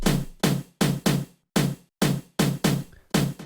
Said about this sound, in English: I quickly added some hard tom drums for that really Afro house feeling.